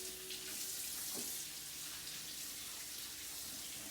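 A kitchen tap runs during handwashing, giving a steady, soft hiss of flowing water throughout, fairly quiet and uninterrupted, with no speech.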